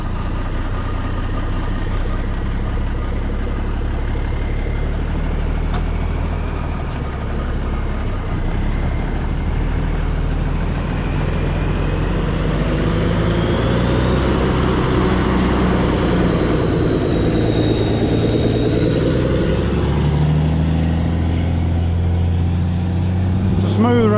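An old Mack B model truck engine runs steadily throughout with a loud, continuous low rumble and a faint rising whine near the end, while voices talk over it intermittently.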